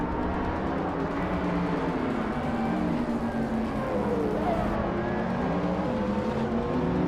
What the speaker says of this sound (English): we're kicking off at Red Bull Ring with Beleskopine leading in a sleek 2020 Lamborghini Sian FKP 37